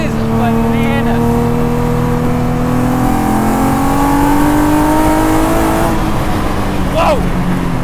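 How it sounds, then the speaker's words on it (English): A V6-swapped Exocet sports car pulls hard under acceleration, its engine note rising steadily and loudly from inside the open cockpit, with wind rush around it and a brief voice near the end. "Power builds like you'd expect from a nice V6."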